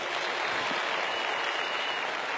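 Steady, dense audience applause at a Vestige marketing success event, a continuous wash of clapping hands with no talk over it.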